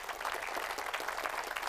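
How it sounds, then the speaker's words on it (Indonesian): Applause from a seminar audience at an Islamic talk, a steady dense patter of many hands clapping at moderate level throughout, with no speech over it. "tepuk tangan buat kita semua"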